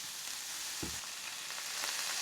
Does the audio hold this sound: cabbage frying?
yes